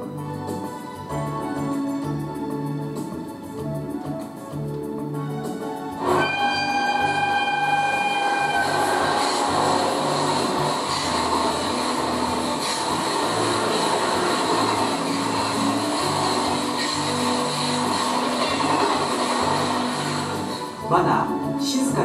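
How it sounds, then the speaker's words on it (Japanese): A small HO gauge model train on a 12V DC layout rumbles and clatters steadily along its track, with a continuous mechanical whir and rhythmic wheel noise throughout. "まだ静かに眠っている街の中を夜行列車が通過していきます。"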